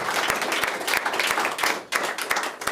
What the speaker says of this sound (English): Another round of applause, if you folks would.